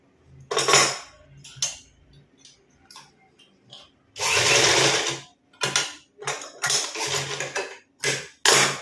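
A sewing machine stitches a folded edge on a high-neck blouse in several bursts of different length, with a long steady run in the middle and shorter runs near the end, close and fairly loud, with no talking.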